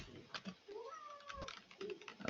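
A talkative house cat gives one drawn-out, wavering meow in a quiet room, with soft clicks and taps before and after it.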